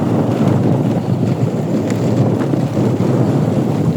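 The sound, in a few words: strong wind on a moving vehicle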